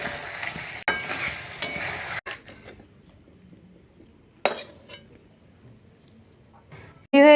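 Stirring garam masala into potato curry (aloo dum) in a pan, close scraping and clinking of a spoon against metal in short bursts, with a faint sizzle between strokes.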